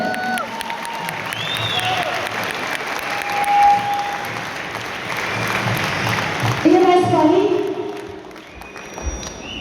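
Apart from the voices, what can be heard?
audience applause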